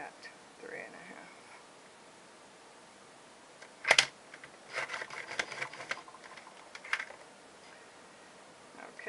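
A paper trimmer slices through a sheet of paper with one sharp, close click, followed by soft scraping and rustling as the paper is handled in a quiet room.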